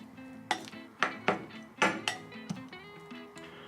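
Cooked rice and tea-rice topping being stirred together in a bowl, a series of irregular clinks and taps of a utensil against the dish, close and fairly quiet.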